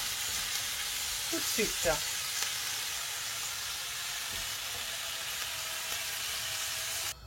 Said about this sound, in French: on passe à la cuisson de notre bœuf